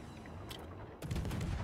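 Ship gunfire in World of Warships, a dense burst of rapid booming shots that sets in about a second into the clip and keeps up loudly to the end, with quieter rumble and scattered blasts before it.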